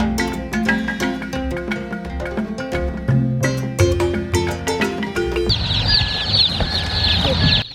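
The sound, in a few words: baby chicks cheeping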